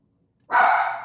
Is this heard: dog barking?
yes